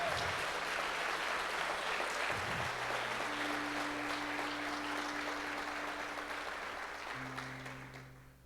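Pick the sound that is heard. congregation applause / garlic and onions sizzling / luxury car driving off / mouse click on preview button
congregation applause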